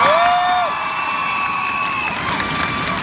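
A concert audience at a show cheers and applauds, a broad wash of crowd cheering with scattered shouts and clapping, loud and sustained.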